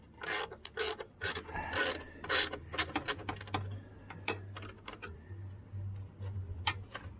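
A socket wrench loosens bolts while an alternator is changed on a 2008 Acura RDX, giving quick ratcheting clicks and rasps in irregular bursts. Faint music plays in the shop behind them.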